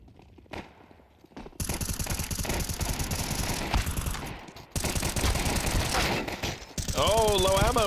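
An M4A1-S rifle in Counter-Strike fires through a full magazine during a professional esports match, with rapid, loud, close bursts of automatic shots broken by a couple of brief pauses. An excited voice talks over the end.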